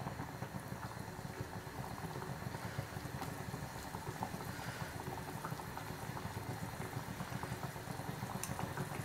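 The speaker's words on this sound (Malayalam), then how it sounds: "ഇതിപ്പോൾ നന്നായിട്ട് തിളച്ച് വന്നിട്ടുണ്ട്." Tomato pizza sauce with tomato puree and ketchup bubbles steadily in a pan, a continuous close, soft boiling texture with no voices.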